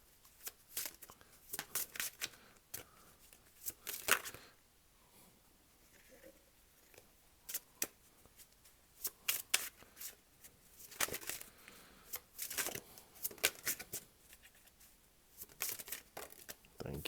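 Tarot cards being shuffled and drawn by hand, producing soft, irregular riffling and flicking bursts, close and fairly quiet, with brief pauses between handfuls.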